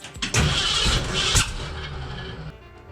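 A 1936 Divco bread truck with a swapped-in V8 cranks briefly, then fires and roars to life loudly before settling into a rough, steady idle close by.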